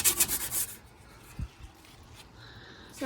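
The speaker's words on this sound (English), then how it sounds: "So he's just sanding away." Rhythmic rasping strokes of hand sanding body filler under the dash of a 1968 Volkswagen for the first second, then quieter scattered scraping with a faint thump in between.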